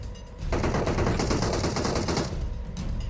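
Sustained automatic gunfire in PUBG Mobile, a dense loud burst lasting about two seconds with a brief lull and then more shots, over a low background rumble.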